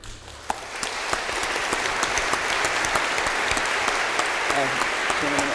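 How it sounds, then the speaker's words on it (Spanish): Sustained, dense applause from a lecture audience after a conference talk on black holes, a broad even wash of many hands clapping with a few sharper individual claps standing out, continuing steadily throughout. "Es un aplauso."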